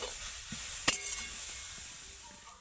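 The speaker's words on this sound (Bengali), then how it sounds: "গাজরটা কিন্তু ঘিয়ের সাথে এইভাবে ভেজে নিতে হবে" Grated carrot fries in ghee in a pan, giving a soft continuous hiss and sizzle with one brief sharp clink of a utensil partway through, quiet and steady.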